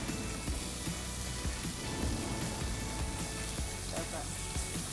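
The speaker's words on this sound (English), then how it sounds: "So that's what you want to have, is that sizzle." Halloumi sizzles in hot oil in a pan, a continuous crackling hiss with small pops, steady and fairly close.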